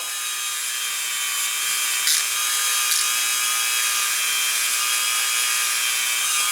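A Dremel rotary tool polishes Glock pistol parts with a steady, high-pitched whine, close and continuous with a couple of brief ticks.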